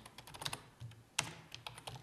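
Rapid clicking keystrokes on a computer keyboard while a name is typed into a diagram dialog in IGSS SCADA software, quiet and close, with a clustered burst and one sharper key press midway and no talk.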